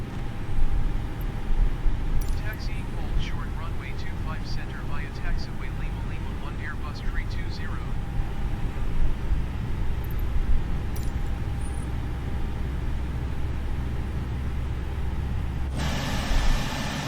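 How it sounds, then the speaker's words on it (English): Engine 2 of an A320neo spooling up in Microsoft Flight Simulator 2020, a steady low whine and rumble building under ongoing cockpit chatter, with a brief beeping sound partway through. "and let's start engine 2."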